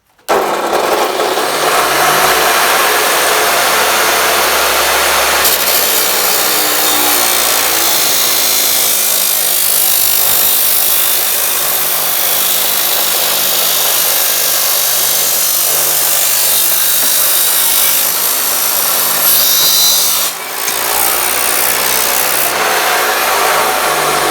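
A Metabo CS 23-355 metal cut-off saw slices through four metal pieces at once, a loud, close, continuous grinding shriek that runs for over twenty seconds with only a brief dip near the end.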